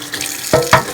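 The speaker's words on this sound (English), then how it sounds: "I'm rinsing it in cold water." Cold tap water running over a freshly boiled egg in a kitchen sink, a soft steady trickle broken by two quick splashy bursts as the egg is turned under the stream, close and fairly loud.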